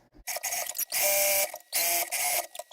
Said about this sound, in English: what I am going to do is stitch across the bottom